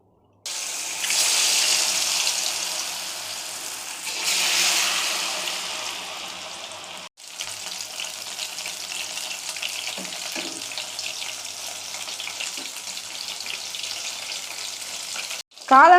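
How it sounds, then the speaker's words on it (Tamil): Mushroom chilli pieces dropped into hot oil for deep frying, giving a loud continuous sizzle and crackle that swells, briefly dips, then settles into a steady bubbling fry. "எண்ணெய் காஞ்சிருச்சு. இப்போ சில்லி போட போகிறோம்."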